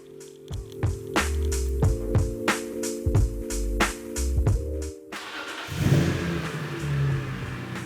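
A BMW E36 with a swapped S54 engine runs after a new fuel pump install: a steady idle hum with rhythmic ticking, then a rougher, broader rumble, close and without talk.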